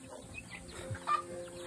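Pet ducks calling in a few short, soft bursts, one louder call near the end, against light outdoor background noise.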